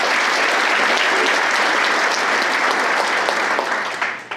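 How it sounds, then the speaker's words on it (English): Loud, dense applause from a crowd at a superintendent's breakfast event, sustained evenly before tapering off toward the end. "I would love to give you a round of applause for that."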